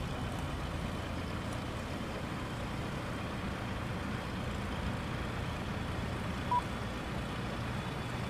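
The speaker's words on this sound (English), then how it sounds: "Alright, so now we've got a good engine start on the right engine." The Q400 turboprop engine in a flight simulator roars as a steady, broadband drone throughout, with a faint beeping faintly audible underneath and no talk.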